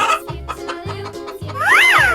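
A chicken clucks in a 3D animal slide video game. Short clucks pop in rhythm over a thumping game beat, ending in a rising and falling squawk.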